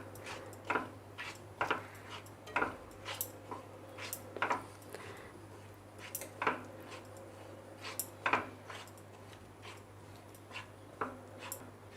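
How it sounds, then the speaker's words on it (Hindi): Mango pulp stirred with a spoon in a kadhai over low heat, with a steady series of scraping and knocking strokes against the pan, fairly close, alone, over a constant low hum. "और इसे धीमी आंचों में इस तरह से चलाते हुए हम इसे पकाएंगे"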